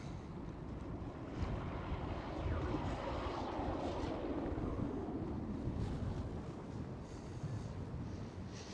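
Wingtip vortex from a Boeing 777 passing overhead at Schiphol Amsterdam, a faint low rumbling whoosh that swells and fades, with wind buffeting the microphone.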